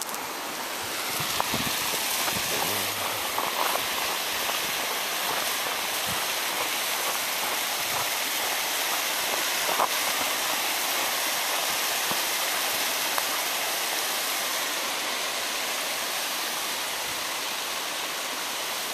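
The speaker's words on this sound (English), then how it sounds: "So it just flows right down over the edge into the river." Super-hot spring water spilling over an edge and pouring down into a river, a steady broadband rushing roar like a waterfall, close and continuous throughout with no voices.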